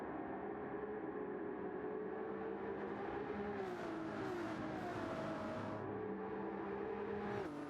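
Ferrari GT3 race cars in Gran Turismo 7 roar past trackside cameras, with a steady loud engine drone and rising and falling pitch as the cars pass, shifting through gears.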